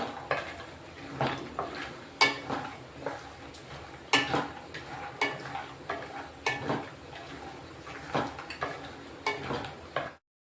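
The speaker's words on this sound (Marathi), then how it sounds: "अक्रोड भाजून घेऊ" Walnuts being dry-roasted in a pan for winter laddoos, giving repeated clattering scrapes and taps as the nuts are stirred, close and moderately loud in an irregular rhythm throughout.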